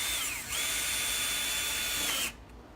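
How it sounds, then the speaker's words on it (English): A power drill whines steadily for about two seconds, driving hardened screws through door hinges into the jack stud, with a short dip in pitch near the start before it stops abruptly. "So we're adding in hardened screws in all of our hinges."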